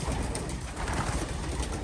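Racing pigeons cooing in a loft built for a one-loft race, many birds producing overlapping low, throaty coos that blend into a dense, continuous murmur close to the listener, with no speech.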